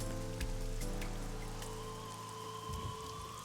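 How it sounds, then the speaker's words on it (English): Rain pelts a parasol in the video game Ai: The Somnium Files, a dense steady patter of drops with a few sharper taps over a low hum, heard without talk. "Parasol's getting pelted by the rain."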